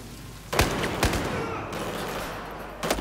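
Gunfire in Battlefield 4 during a South China Sea mission, a few sharp, separated shots over a steady rumbling battle background, and a voice speaks faintly.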